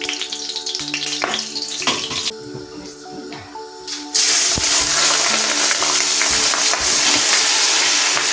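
Rice goes into hot oil with cardamom and bay leaf for a picnic biryani; a softer sizzle with clanks jumps to a loud, dense, continuous frying hiss once the grains hit the pan.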